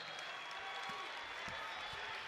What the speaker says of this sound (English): The crowd goes wild.